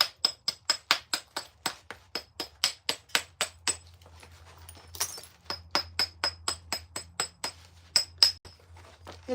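A stone tool's edge is trimmed by knapping, sharp ringing clinks struck in quick steady series, close and crisp, with a brief pause midway before the rapid tapping resumes.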